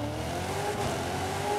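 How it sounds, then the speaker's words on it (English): A small Miata sports car's exhaust drones and revs inside a tunnel in a racing video game, a steady, loud engine note with echo and no talk over it. "listen to this exhaust in the tunnel"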